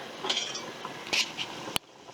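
Metal lid lifted off a stockpot of chicken broth at a hard boil on a stovetop, with light clinks and scraping of metal, a bubbling hiss underneath and a sharp final clank.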